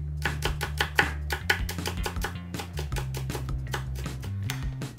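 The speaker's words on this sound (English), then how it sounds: "So now we'll get these chopped." A knife chops green onions in a quick, even rhythm of crisp strikes, close and clear over a low, steady background hum.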